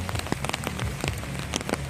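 Heavy rain drumming steadily on a hard surface, dense hiss punctuated by sharper nearby drips.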